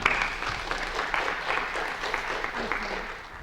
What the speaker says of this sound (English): Let's give a warm round of applause for Ellen